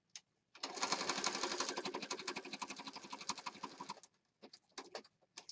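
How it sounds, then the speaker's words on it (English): A sewing machine stitches through layered paper and fabric embellishments in a quiet room, running in one long rapid burst of needle strokes, then a few short stops and starts. "now I'm going to sew"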